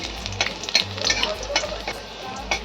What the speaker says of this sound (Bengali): রসুন আর লঙ্কাটা আমার ভাজা হয়ে যাবে যখন হালকা